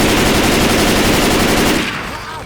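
Rapid automatic gunfire in the zombie shooter Left 4 Dead 2, a loud sustained burst of rattling shots that cuts off near the end and leaves a short fading tail.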